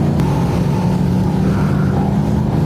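A Corvette C8 driven hard at full throttle on a cone-marked course, its engine a loud, steady low roar held close and alone with no talk over it.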